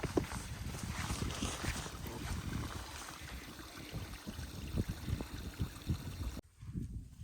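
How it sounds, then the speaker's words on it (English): A small waterfall on a mountain tundra trail in light rain rushes steadily and close by, a full splashing wash that cuts off abruptly near the end, leaving a quieter trickle. "This pretty little waterfall."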